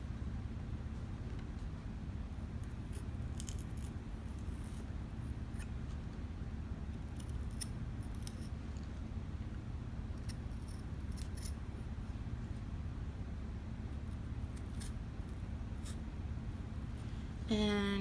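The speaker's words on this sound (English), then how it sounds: "So I'm going to start cutting around, you know, cutting off all of this excess stuff here." Scissors snip slowly around a shape while trimming excess paper for a printmaking project, with faint, sparse cuts over a loud steady low rumble.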